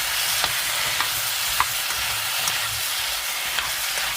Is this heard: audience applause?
no